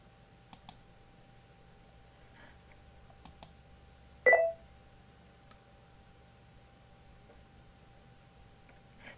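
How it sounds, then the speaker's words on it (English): Mouse clicks while placing a stock order on Webull: a few faint, sharp clicks, followed by one louder brief click-and-tone burst, in an otherwise quiet room. "now I'm going to click place order"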